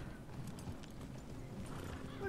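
Horse hooves in Red Dead Redemption Online clatter in a steady, fast clip-clop over a constant low game rumble, with occasional faint voices in the background.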